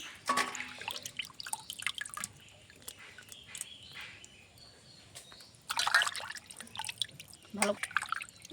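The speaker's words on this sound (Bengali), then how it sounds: "মাছগুলো এখন ধুয়ে নিচ্ছি।" Cut fish are washed by hand in water for a potato fish curry, with close splashing, dripping and trickling that comes in uneven bursts while a person talks over it.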